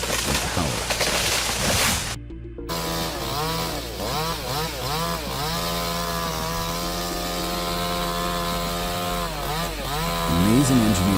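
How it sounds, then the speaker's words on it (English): A chainsaw cuts into a large tree, its engine whining and wavering in pitch as the throttle rises and falls, loud and close after a brief silent gap, with a voice talking over it at points. "The sound of a chainsaw is always a mix of gentleness and power."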